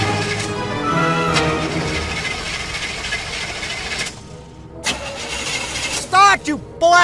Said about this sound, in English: Start, you rust bucket! It started, Musket.